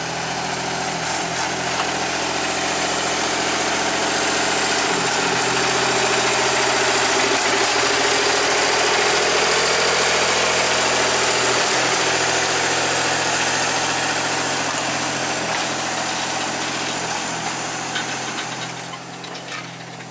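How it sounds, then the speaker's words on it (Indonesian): A small sugarcane locomotive hauls a long train of loaded cane lorries along a steep, demanding line with sanded rails. Its engine gives a loud, steady mechanical drone and rumble that holds for the whole stretch, with no talking. "Oke, persiapan menarik rangkaian lori isian."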